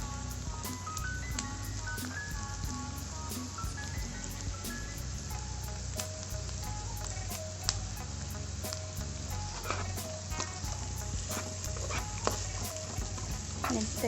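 Minced garlic and onion sizzle steadily in olive oil in a pan, a continuous close frying hiss with occasional clinks of a stirring utensil, no talk over it.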